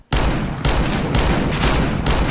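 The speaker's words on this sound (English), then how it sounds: "I shot the guy 4 times" Rapid bursts of gunfire from the video game CS:GO, a dense, loud stream of shots broken by three brief pauses, with no talking over it.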